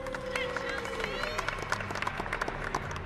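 A crowd at a curling exhibition game claps and murmurs in a steady, moderate wash of applause, with a commentator's voice running over it.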